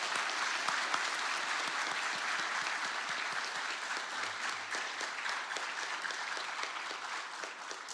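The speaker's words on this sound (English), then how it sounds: "Let's give all of our award recipients a last round of applause." At a police service recognition awards evening, the crowd gives a long, even round of applause for the award recipients, thick overlapping claps continuing without pause and easing only slightly toward the end.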